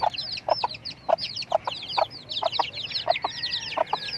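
Several chickens clucking in short, repeated bursts close by, with a faint higher chirping running over them and no one speaking.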